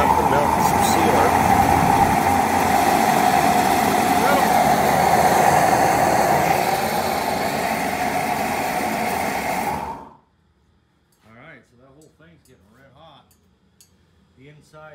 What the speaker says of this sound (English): This is a liquid propane burner.